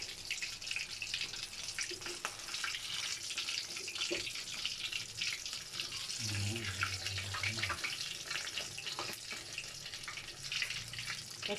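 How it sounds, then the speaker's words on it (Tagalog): Sharp crackling and hissing as water is splashed into hot oil while pork belly fries, a busy sputtering texture throughout with a louder burst partway through. "Talsikan mo pa yung tubig pa."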